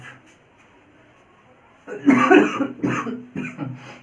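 A few harsh coughs during a classroom physics lecture, close and loud, arriving in three bursts after a quiet stretch.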